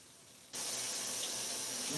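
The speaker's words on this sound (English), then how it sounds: "rinsing off my spoon, y'all." A kitchen faucet switches on and runs in a steady close gush while a spoon is rinsed under it at the sink, the flow alone without talk.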